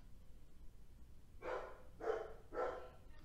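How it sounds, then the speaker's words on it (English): A dog barks three times in quick succession, moderately close, against a quiet indoor background with no talking. "The dog starts barking,"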